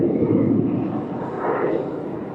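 A jet aircraft roaring past at the Bahrain Airshow, a loud broad rushing engine rumble that swells and slowly fades over a couple of seconds.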